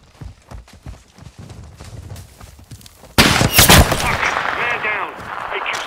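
Sniper gunfire in a console shooter game, a loud sharp crack arriving suddenly and followed by sustained noisy rumble and echoing action, after a stretch of quieter clattering footsteps and movement.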